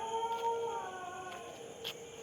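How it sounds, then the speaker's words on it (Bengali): A dog howls faintly in the dead of night near a Shiva temple at Kankalitala, a thin sustained wail over quiet background hiss, with no voices. "দেখতে পাচ্ছেন নিশুতি রাতে কুকুরের আওয়াজ"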